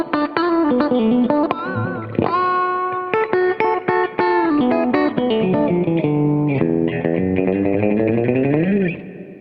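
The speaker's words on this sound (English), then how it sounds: "we've got a reverb if I want to turn a reverb on from stage" An electric guitar played through a reverb effect pedal, with sustained distorted notes and chords that ring out and trail into a washy tail, plus picked accents; loud and continuous.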